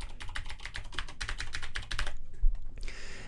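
Fast, close typing on a computer keyboard, a dense run of crisp key clicks that pauses briefly, then picks up again near the end.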